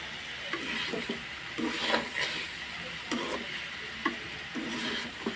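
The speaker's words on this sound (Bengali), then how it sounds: "করলা আলু দিয়ে ভাজি করতেছি" Bitter gourd and potatoes frying in a pan on a gas cylinder stove: rhythmic scraping and clacking of stirring repeats over a faint background sizzle, close and moderately loud.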